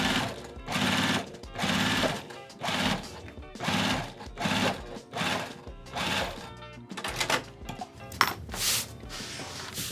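A sewing machine runs in repeated short bursts, top stitching a box bag, its rapid needle chatter stopping and starting about once a second, close and clear.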